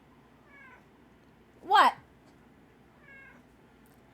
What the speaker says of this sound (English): He's very quiet when he meows